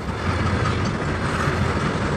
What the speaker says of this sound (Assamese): মালগাড়ী হয়